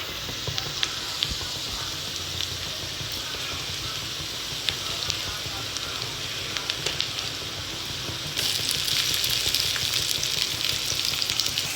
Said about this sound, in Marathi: टमाटर पण थोडं मऊ प पडूपर्यंत भाजायचं